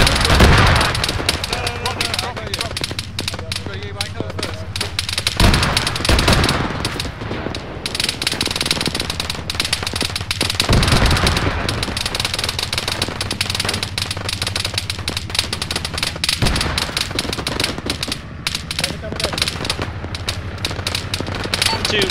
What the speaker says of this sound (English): Bravo's being engaged by some kind of autocannon